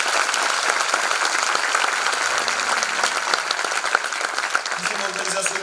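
Sustained, steady applause from a large audience at a Turkish art music choir concert fills the whole stretch, many hands clapping at once without a break.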